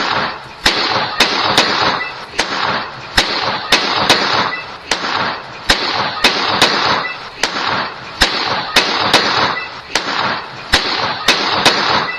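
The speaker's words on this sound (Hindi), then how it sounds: "दुल्हन मंच पर बैठी है और एक के बाद एक पिस्तौल से फायर कर रही है" Repeated pistol shots fired by a bride seated on a wedding stage in Hathras, Uttar Pradesh: sharp cracks at irregular intervals, roughly a dozen, over a loud, continuous crowd and music din.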